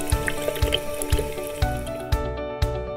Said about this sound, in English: Just pour tap water that you boil before drinking into the device.